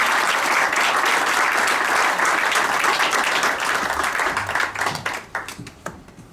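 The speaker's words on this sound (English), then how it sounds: "one big round of applause" An audience at a community candidate forum applauds the Upcountry candidates with a sustained, full round of clapping that thins and fades to scattered claps at the end.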